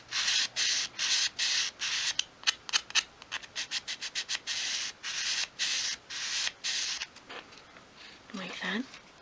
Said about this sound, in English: sandpaper into little squares so you can get into all the little sort of nooks and crannies